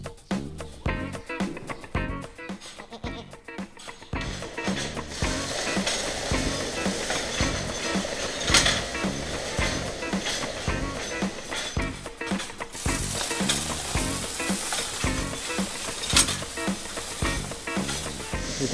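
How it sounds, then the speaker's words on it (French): A farm feed robot runs its mixing cycle on goat feed in a barn. It makes a steady, dense mechanical clatter with ratcheting, grinding and rattling that continues without pause at moderate loudness. "dès qu'elles entendent le robot se mettre en marche et mélanger les aliments"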